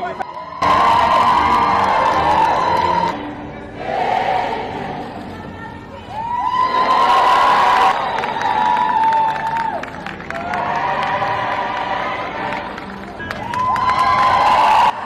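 A large crowd outside the royal wedding at Windsor Castle cheers, whoops and claps in loud repeated surges, each swell rising and falling over several seconds, with shouting voices mixed into the roar.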